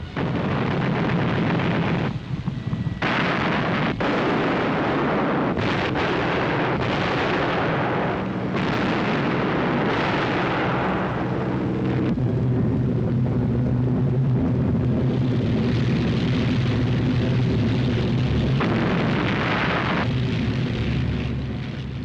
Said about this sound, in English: all the guns of the great ship blazed away